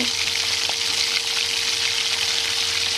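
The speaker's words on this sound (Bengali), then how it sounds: "তেল গরম হয়ে এলে একটা একটা করে মাছ দিয়ে দেবো" Pomfret fish frying in hot oil on a tawa, a close, continuous bright sizzle with a faint steady hum beneath, no talking.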